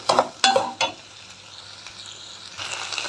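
Okra and tamarind frying in a pan, three sharp stirring scrapes at the start, then a soft steady sizzle that rises again toward the end.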